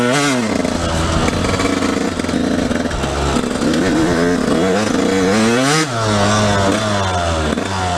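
A dirt bike engine buzzes loudly while being ridden, revving up through rising pitch, dropping briefly at gear changes, then climbing again, close and continuous.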